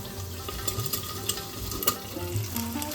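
Egg omelette frying in a pan under a plate lid, a steady muffled sizzle with faint crackles and occasional soft pops, close and continuous without talk.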